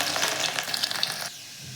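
Mustard seeds and peeled garlic cloves tossed into hot oil for tempering, crackling in a bright close-up sizzle that drops away abruptly after about a second and a half.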